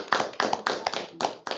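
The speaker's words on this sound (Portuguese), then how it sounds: "eu acho que merece uma salva de palmas" A few close, distinct handclaps in uneven bursts after a literature talk, sharp and near, with brief gaps between clusters.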